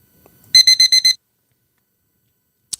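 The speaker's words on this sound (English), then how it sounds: "Alarm is set." An alarm clock goes off with five quick, loud electronic beeps in a steady rhythm, followed by silence and one short high chirp near the end.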